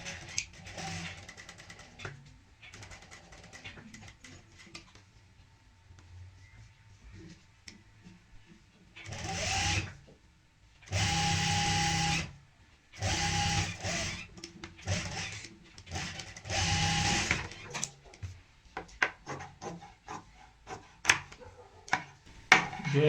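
An electric sewing machine stitches doubled fabric and buckram on a half-neck collar, running in several loud bursts of rapid whirring separated by pauses, with quieter handling clicks between.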